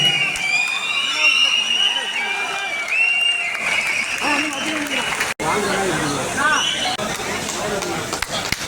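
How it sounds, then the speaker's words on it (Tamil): Spectators applaud at a South India bodybuilding championship award ceremony, sustained clapping and cheering mixed with crowd babble, with electronic tones and an announcer's voice over the hall. "கைத்தட்டி உற்சாகப்படுத்துமாறு அன்போடு கேட்டுக்கொள்கிறோம்"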